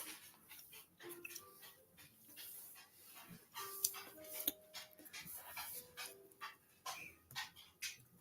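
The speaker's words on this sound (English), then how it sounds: "My dogs are just waking up from a nap." Several dogs stir from a nap, softly panting with small whimpers and a faint bark or two in a quiet indoor room, uneven and close but low in level.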